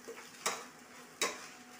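Food fries on an induction cooker at home under a faint sizzle, with two distinct scraping stirs of a spoon against the pan, near and fairly quiet, no voices.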